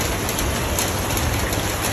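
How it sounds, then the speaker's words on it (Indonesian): Steady rain falling outdoors beside freshwater lobster ponds, a continuous broadband hiss with a low rumble underneath, even and unbroken throughout, with no voices. "Ini kan lagi hujan nih"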